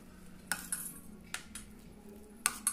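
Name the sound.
spoon stirring condensed milk truffle filling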